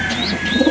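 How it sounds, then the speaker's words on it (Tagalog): Pet pigeons coo in soft, low, repeated throaty pulses close by, a brief burst of cooing with faint chirps overhead. "Ayan guys, nagwawala na yung mga kalapate."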